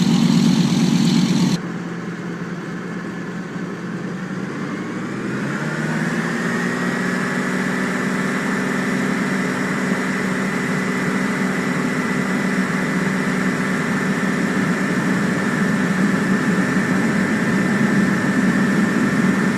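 A DC-3 propeller airliner's engines in Flight Simulator X run up to full throttle, with a steady drone that rises in pitch and strengthens after a few seconds into a loud, sustained roar. No one speaks.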